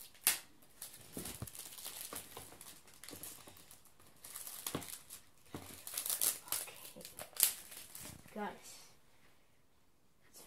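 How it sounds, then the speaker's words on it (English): PS4 console packaging being cut open with scissors, heard as crinkling plastic, scattered snips and rustling handling noises at close range, while a person talks throughout. "Now that I've got some scissors, I'm going to cut this open."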